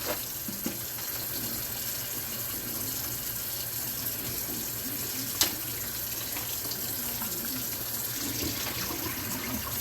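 Running tap water splashing steadily into a sink while a fish bag is rinsed, a continuous close hiss with one brief sharp clunk partway through.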